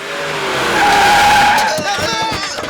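A car brakes hard, tires squealing loudly in a rising, sustained skid that peaks and then breaks into rough scraping as it slows, close and intense.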